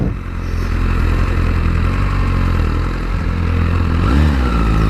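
A 2017 Suzuki GSX-R1000 sport motorcycle engine runs loud and steady close by, with a brief rev swelling near the end.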